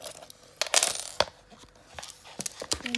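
The tiny metal keys and small lock of a notebook diary clink and click as they are handled, giving sharp, scattered metallic ticks and light rattles at close range without speech.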